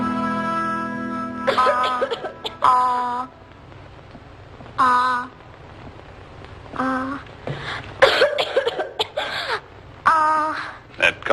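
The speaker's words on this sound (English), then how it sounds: "That cough doesn't seem any better," Several short throaty coughs from a girl at a charity school, scattered in bursts between spoken lines, close and clear, with hoarse voiced catches mixed in.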